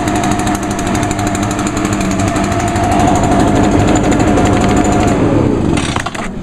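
A small two-stroke backpack leaf blower engine runs steadily and loudly at close range, its high buzzing drone holding constant before easing down near the end.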